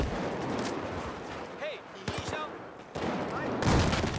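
Gunfire in the video game Battlefield 4 on the Pearl Market map, bursts of rapid shots and sharp cracks with a loud volley near the end, heard under a player talking.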